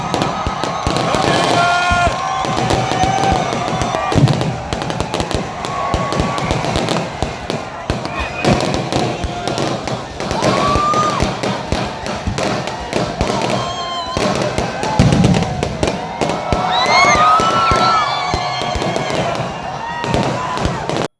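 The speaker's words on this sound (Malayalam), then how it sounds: "പുതുവർഷത്തിലേക്ക് കടന്ന സംഗീതരാവിന് വെടിക്കെട്ടോടെ സമാപനം." New Year fireworks burst over a crowded Mahe beach at the close of a music concert, with steady cracks and thumps running loud and continuous under music and crowd noise.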